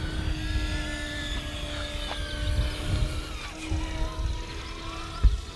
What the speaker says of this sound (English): I like this helicopter.